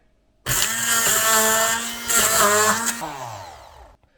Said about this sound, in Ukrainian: І тепер нам потрібно або погружним блендером, або будь-яким блендером перебити швиденько